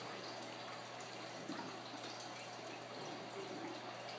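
Water in a small test container is shaken after test drops are added for a pH check of a fish tank, giving a faint, steady liquid sloshing with no voices.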